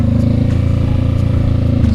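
Honda motorcycle engine revving with the throttle held open, a loud, steady low rumble with dense harmonic buzz throughout, close by and continuous, with no speech.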